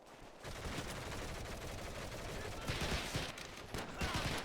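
Long-range gunfire in the Battle of the Bulge level of Medal of Honor: Heroes, a faint continuous rattle of overlapping shots with a few sharper bursts later on.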